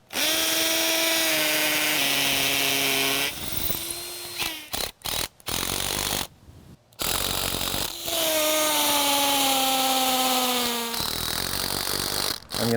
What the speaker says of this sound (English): So I use a hammer drill with the appropriate sized bit.